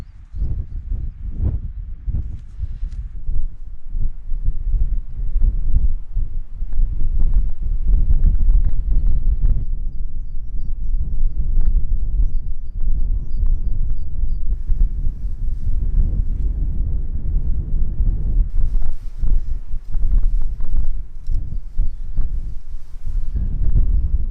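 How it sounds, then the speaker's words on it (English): Strong gusty wind buffets a wild camp in misty conditions with a Lanshan 1 Pro tent pitched, roaring loud and continuous against the microphone with rattling gusts throughout. "that wind's picked up a little as well"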